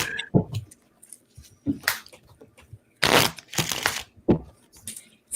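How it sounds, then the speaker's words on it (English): Tarot cards being shuffled by hand in bursts of riffling and rustling, loud and close, separated by short quiet pauses. "Gotta keep shuffling."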